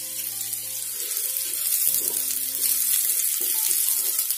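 Half-boiled potatoes frying in hot desi ghee give a steady, close hiss of sizzling oil that runs without a break for the whole moment, with a faint low hum underneath.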